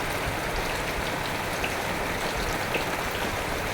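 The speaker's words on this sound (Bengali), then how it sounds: "বাইরে দেখো কি বৃষ্টি হচ্ছে" Steady rain falling outside on a rainy day, a dense continuous patter and hiss of drops on surfaces, even and moderately loud with no voices.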